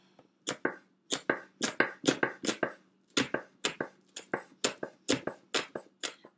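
Vegetables for minestrone are chopped with a knife on a board, a steady run of sharp, close knife strikes in quick uneven bursts with brief pauses between.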